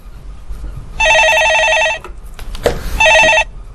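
Telephone ringing on a stock-market call-in radio show, two electronic bursts of trilling ring separated by a short pause, loud and clear over faint background noise.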